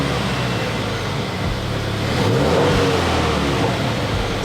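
A 2015-or-later Subaru WRX engine idles steadily, then revs up sharply as the throttle is blipped midway and settles back, a close, continuous mechanical rumble with no talking.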